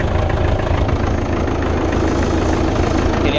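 A Fordson Super Major tractor engine runs steadily with the power take-off engaged, producing a loud, continuous low diesel rumble and knock that stays even and close throughout.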